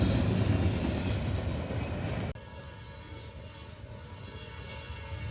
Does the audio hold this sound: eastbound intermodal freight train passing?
yes